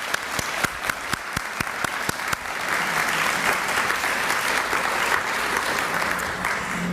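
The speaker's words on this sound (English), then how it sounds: "join me in giving them a round of applause" Applause from a community literacy event audience honoring library staff, opening with a few sharp separate claps and then swelling into a full, loud, sustained ovation.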